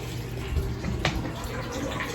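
Bath water draining from a tub, a steady close gurgling rush of water running without pause for a couple of seconds.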